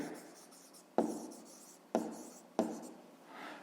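Digits written by hand on paper during a maths exercise, heard as three short, close scratchy pen strokes spaced about a second apart over a quiet room, with no voice.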